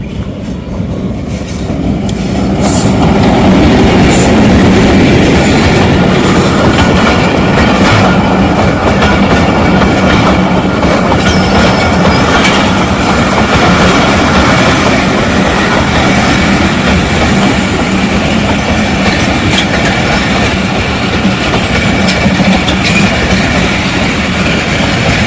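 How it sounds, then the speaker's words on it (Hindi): Mehr Express train hauled by an HBU20 locomotive approaching Shershah Junction, a loud continuous rumble of rolling wagons and wheels that builds in the first few seconds and holds steady throughout. "मेर एक्सप्रेस HBU20 के साथ शेरशाह जंक्शन पे अप्रोच बना रही हैं।"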